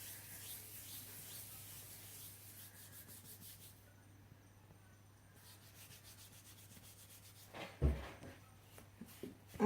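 Hands rubbing and smoothing fondant over a baby shower cake, a soft continuous brushing and rubbing texture, fairly faint and close, with a few louder taps near the end.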